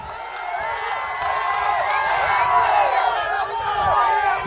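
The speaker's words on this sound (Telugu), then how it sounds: "ఇస్తున్నామంటే గట్టిగా చప్పట్లు కూడా చెప్పండి." A large crowd at a political rally roars, whoops and shouts with excitement, loud and sustained for the whole stretch. Many voices overlap, and no clear clapping stands out.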